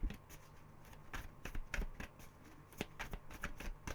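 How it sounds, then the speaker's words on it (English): Tarot cards are shuffled by hand in a string of quick, crisp riffling flicks and soft slaps, close and fairly quiet, with no talking. "feel like that is shuffled enough"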